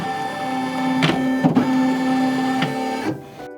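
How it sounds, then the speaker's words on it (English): A Baby Lock embroidery machine whirs steadily as its motor drives the embroidery unit into position, with a sustained mechanical hum broken by several short clicks and knocks before it stops near the end. "At this point we can turn the machine on. And it'll give you a warning that it's going to move the embroidery unit."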